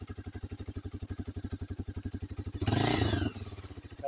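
A motorcycle engine putters at a steady, fast idle, each firing pulse distinct, then the throttle is blipped into a short loud rev before it settles back to idle, close to the microphone.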